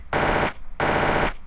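Two long bursts of rapid machine-gun fire from a video game, each about half a second, loud and close with a short gap between them.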